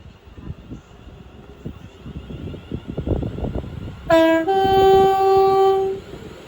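A London Northwestern Railway Class 350 passenger train departing Watford Junction on the West Coast Main Line rumbles at low level, then a loud, sustained two-tone horn blasts for about two seconds before fading.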